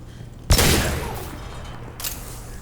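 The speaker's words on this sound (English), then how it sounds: "There's no reason to shoot down any of the cameras." Gunfire in Mass Effect 2 as security cameras are shot down: one loud, sharp burst with a long decaying rumble, then a smaller second shot about a second and a half later.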